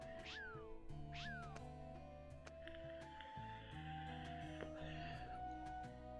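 A cat character meows a few times in the Monster Hunter video game, set in the rainy village of Yukumo, with short rising cries over steady game music and ambience.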